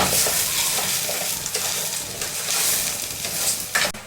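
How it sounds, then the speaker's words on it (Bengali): Rice sautéed in a pan for vegetable pulao hisses and sizzles steadily up close, broken by scraping stirs and a sharp clatter near the end. "চালগুলা দিয়ে একটু ভালো মতো কষাইতে হবে"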